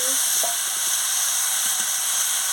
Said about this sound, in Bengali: সামান্য একটু জল দিয়ে দিচ্ছি। আদা বাটাটা দিয়ে দিচ্ছি।